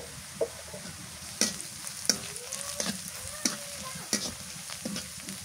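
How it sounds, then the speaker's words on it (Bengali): Onions frying in a pot on a clay stove, a soft sizzle with several sharp scraping stirs and clinks of the spatula at uneven intervals, fairly close and quiet. "পেঁয়াজ ভাজা হয়ে গেছে, মরিচের গুঁড়া দিয়ে দিই, হলুদের গুঁড়া দিই"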